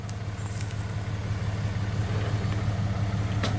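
A 1983 Chevy 4x4 truck nicknamed the old mule runs as it pulls away loaded and strapped down, a steady low engine rumble that swells slightly, with no voices.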